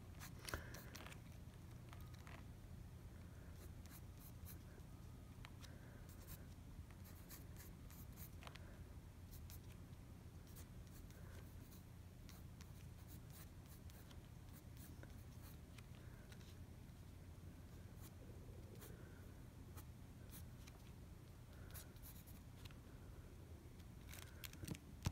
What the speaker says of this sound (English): sketching things in lightly so I can go back and erase them